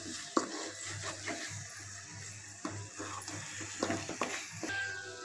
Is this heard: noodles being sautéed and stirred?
yes